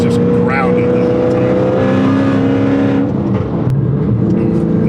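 A custom widebody Dodge Challenger with a six-speed manual gearbox drives on the road, its engine giving a loud, continuous drone and rumble with slight shifts in pitch throughout.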